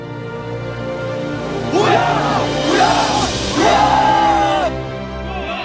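Navy SEAL trainees shout "Hooyah" together in three loud, drawn-out bursts. The last cry is the longest, over a steady low background hum.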